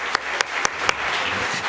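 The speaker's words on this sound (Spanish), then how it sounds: "Un aplauso." An audience at a Spanish panel discussion claps, with a few sharp separate claps at first, then a brief burst of applause that fades out fast.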